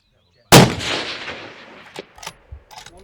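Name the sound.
precision rifle shot at a match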